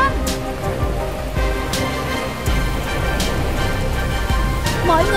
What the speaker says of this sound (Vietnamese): mưa to quá, nhanh lên.